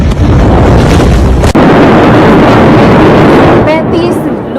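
A massive explosion in Beirut, Lebanon, captured as a loud, roaring blast with heavy rumbling and wind-buffeted distortion, a sharp break partway through, then continuing roar with faint voices near the end.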